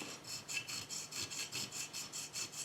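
Epoxy filler on a Dinky Austin toy car being filed very lightly by hand, about a dozen soft, even rasping strokes in a regular back-and-forth rhythm, close and quiet with no talking.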